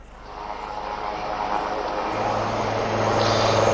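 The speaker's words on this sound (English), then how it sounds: "as you can listen the sounds of the helicopters" Rotor and engine noise swells steadily overhead, a droning aircraft growing louder over a few seconds with no voices.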